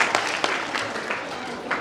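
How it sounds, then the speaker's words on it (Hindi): An audience at a Hindu satsang gathering in Varanasi claps in sustained applause, dense and moderately loud throughout. "हाँ, इनके लिए ताली बजाओ जिन्होंने हाथ ऊंचा किया कि हम अपने बच्चों को भेजेंगे।"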